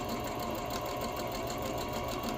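A sewing machine runs continuously, double-stitching a fabric cover with a fast, even mechanical whir and rapid needle ticking, steady and close with no pauses.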